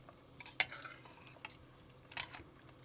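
Split peas stirred into frying meat in a pan give a few faint scraping clinks and light rustles over a soft sizzle, close and quiet, with no talk.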